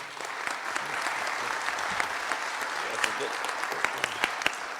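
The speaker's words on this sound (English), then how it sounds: "I'd like to give our panelists and our presidents and participants a round of applause for participating" Audience at a panel discussion on race relations giving the panelists a round of applause, a dense steady clapping from many hands that holds evenly at moderate loudness.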